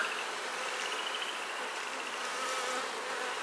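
A steady, dense buzz of many honeybees from an open colony in spring hums continuously, close and moderately loud, with no gaps or voices.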